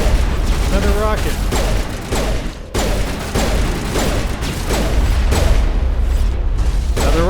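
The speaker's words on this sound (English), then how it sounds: "Okay, got a rocket coming towards me." Rockets burst and pound in rapid succession during Mass Effect combat, loud and close, with sharp impacts and crackling blasts under steady game noise and intermittent talk.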